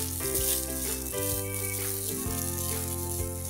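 Egg fried rice tossed in a hot pan gives a steady, close sizzle and crackle throughout, with a few scraping knocks as it moves, behind a layer of sustained background music.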